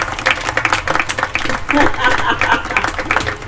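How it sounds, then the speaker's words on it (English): An audience applauds at a graduation hooding ceremony keynote, a dense, steady wash of clapping that fills the room with talk mixed in. "And I'd like for Bill to stand up right now and everyone applaud him."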